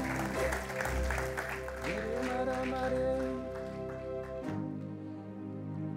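Church congregation applauding and cheering to praise the Lord, sustained clapping under steady held keyboard chords that fades toward the end.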